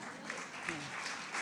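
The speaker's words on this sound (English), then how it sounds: "I notice only the women clap there." Light applause from part of the audience at a panel discussion on women's empowerment, scattered clapping at a fairly low level with a voice briefly over it.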